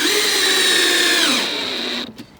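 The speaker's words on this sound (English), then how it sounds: "So I'm gonna put a screw in here diagonally, right there." Power drill driving a screw diagonally into wood, one continuous high whine that drops in pitch as the screw seats, then a quick stop with a couple of short trailing bursts, close and loud.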